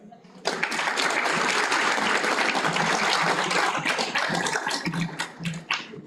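A graduation ceremony audience breaks into applause, dense sustained clapping from a large crowd in a hall, rising abruptly after a brief pause and thinning toward the end, with voices faintly mixed in.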